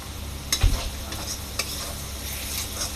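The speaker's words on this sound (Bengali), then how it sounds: "আমার পেঁয়াজটা ভাজা হয়ে আসছে, আর একটু ভাজা হবে।" Onion frying in oil with cinnamon sticks, bay leaves, cardamom and cloves, a steady soft sizzle with a couple of stirring clinks and scrapes near the pan.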